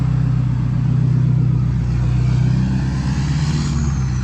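A truck engine rumbles loud and close in a deep, continuous idle that rises slightly as it revs, holding steady throughout without any talking.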